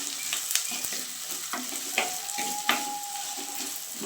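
Onions and curry leaves sautéing in oil in a pan, a steady close sizzle broken by occasional stirring scrapes and taps, with no talk.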